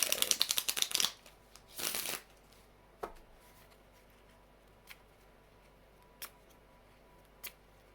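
A mini Gilded Tarot deck is riffled in a quick, crisp burst of card flutter, followed by a second short shuffle and then a few isolated soft taps as cards are handled in a quiet room.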